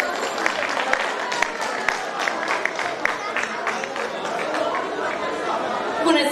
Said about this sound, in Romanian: Să le primim cu aplauze!